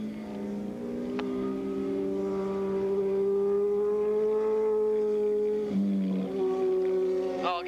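Racing motorcycles from the Open and 750cc Super Street classes in 1986 at Willow Springs International Raceway, a steady, loud engine drone holding pitch as bikes pass, with a brief shift in tone near the end.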